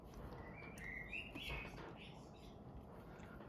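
A bird outside chirps faintly in a short run of high, thin tweets over a quiet room hiss, with no other foreground sound.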